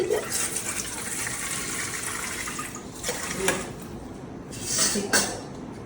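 Water splashes and gushes steadily as it is poured into rice flour in a bowl for puttu, with a few brief louder bursts.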